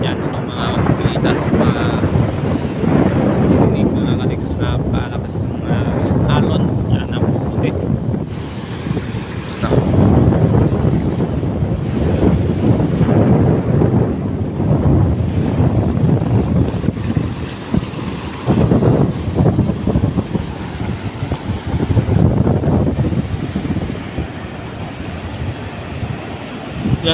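Strong wind buffeting the microphone with crashing waves at a pier on the coast, a continuous loud rushing roar with surging gusts, and a voice talking over it.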